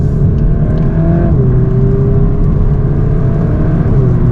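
A Mk8 Golf R engine idles with a steady low rumble, then its pitch rises and holds as the revs climb, loud and close, with no voices.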